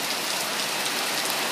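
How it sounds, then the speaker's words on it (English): Heavy rain pours down in Bangkok, a dense, loud, steady hiss of drops pattering on surfaces with no pauses. "When it rains in Bangkok, it rains."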